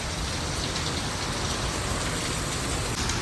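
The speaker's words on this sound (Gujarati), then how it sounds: "જુઓ તો મિત્રો પવન તો જો બહુ પવન હે વરસાદ સાથે" Heavy out-of-season summer rain driven by strong wind, a dense steady roar of hissing drops that stays loud and unbroken throughout.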